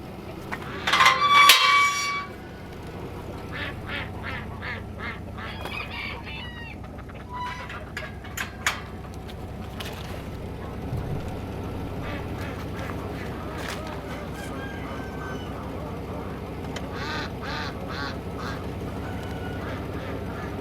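Ducks quack on a farm in a loud, close burst of calls, followed by scattered, fainter quacks over steady outdoor background noise.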